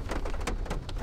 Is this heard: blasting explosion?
no